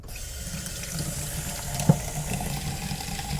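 A tap runs steadily, washing a roll of developed black-and-white film in a sink, making a continuous close hiss and splash with one small knock partway through.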